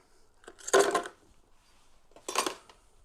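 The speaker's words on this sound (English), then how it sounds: "Now with this you need 4 cubes of ice." Ice cubes dropped into a mocktail glass, two separate clattering bursts of clinking ice against glass, close and fairly loud, with quiet pauses around them.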